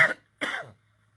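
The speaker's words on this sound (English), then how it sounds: "Yeah, that's the cough." A man recovering from a coronavirus illness coughs twice, two harsh, close bursts separated by a short pause, followed by quiet.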